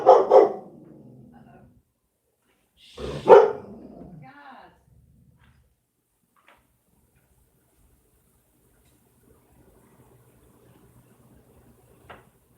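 Several dogs bark indoors in a couple of loud, close bursts near the start, followed by long quiet stretches with faint low rumble and a small knock at the end.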